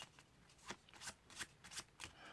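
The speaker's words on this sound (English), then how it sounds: "you tell them to shuffle the pile" A pile of playing cards is shuffled by hand in quick repeated riffling bursts, steady and fairly close, with a soft crisp flutter throughout.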